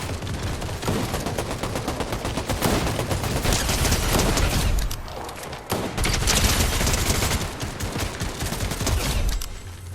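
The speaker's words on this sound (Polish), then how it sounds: "strzelają" Dense, sustained gunfire from the Fortnite battle royale video game, rapid overlapping shots and bursts filling the whole stretch at close range, with no talking.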